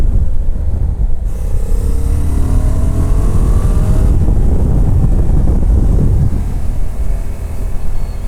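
A 2020 Honda Africa Twin Adventure Sports motorcycle on the move, its engine droning steadily under heavy wind roar, with the pitch rising through the gears as it accelerates, loud and continuous throughout.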